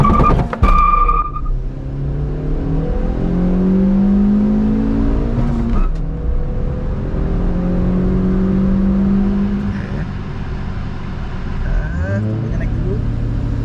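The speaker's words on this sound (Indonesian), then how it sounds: "Angkat rem tangan, kita gas, tunggu turbonya naik." A turbocharged car launches from a standstill, its engine revving up and holding as the turbo spools, then easing and surging again. Loud and close, with people talking over it in the car.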